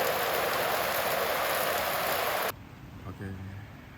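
Heavy rain pounds a Coleman Swagger tent at a campsite in Hwacheon, a dense, close hiss that cuts off abruptly partway through, leaving a quieter patter under a short bit of speech.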